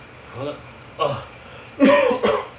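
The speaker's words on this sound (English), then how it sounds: "sorry, cough attack." Three bursts of coughing, a short one, then two harsher back-to-back coughs, close and fairly loud with no talking.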